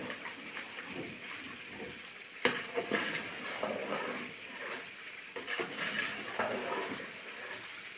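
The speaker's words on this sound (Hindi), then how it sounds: "अभी हम थोड़ा सा इसको मिक्स कर देंगे" Mutton korma being stirred in a pot, a moderate wet scraping and squelching that rises and falls in uneven strokes, with a clunk of the utensil against the pot.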